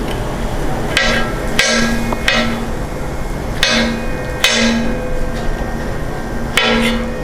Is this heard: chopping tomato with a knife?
yes